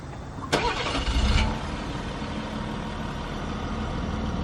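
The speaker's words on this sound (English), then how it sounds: "we're going to listen to the exhaust note" A quiet, steady exhaust rumble from a Ford F-150 pickup's 3.0L Power Stroke diesel engine, low and even, with a brief louder swell early on before settling back to a smooth idle.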